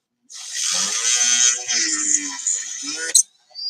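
A Dremel rotary tool spins up, working on a toy blaster build, with a steady, close, high-pitched buzzing whine lasting about three seconds, then a sharp catch, a brief cutoff and a restart.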